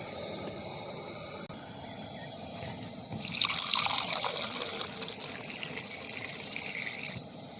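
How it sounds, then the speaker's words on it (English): Shiraz wine poured from a box into a glass, a steady liquid trickle that grows louder and splashier partway through and continues to the end, with no talking. "open a nice box of Shiraz and see if I can pour a glass whilst holding the camera."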